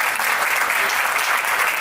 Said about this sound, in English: A huge round of applause once again, ladies and gentlemen, for Dr. Nemi Bantia.